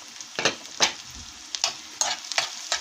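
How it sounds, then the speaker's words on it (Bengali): Whole spices (bay leaf, cloves, cardamom and cinnamon) fry in oil for an egg curry, giving a soft continuous sizzle broken by repeated scraping stirs of a spoon in the pan. "একটু হালকা করে ভেজে নেব।"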